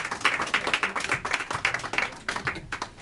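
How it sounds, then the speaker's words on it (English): Audience applause at a school board meeting, a small crowd clapping steadily in a room, close and fairly loud, with no voices over it. "thank you for the applause"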